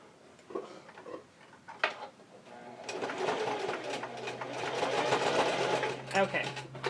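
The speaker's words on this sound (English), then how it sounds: "Now I'm going to stitch down this side." A sewing machine stitches the edge of a small fabric ear bud case, its rapid mechanical whirring building steadily and running close and loud for several seconds, with a few faint clicks and brief speech before it starts.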